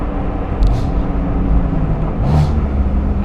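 A BMW F82 M4 with a burble tune and a very loud exhaust, probably without valves, idles in a deep steady rumble close by, with a couple of short crackles riding over it.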